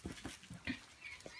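Three-and-a-half-week-old puppies play-growling in a playroom, with short low growls and whimpery yips coming in quick bursts, close by and fairly quiet.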